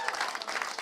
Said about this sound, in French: on voit les gens qui vous applaudissent